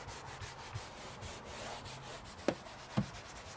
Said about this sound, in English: scrubbing it down properly, getting out all the little pieces of dirt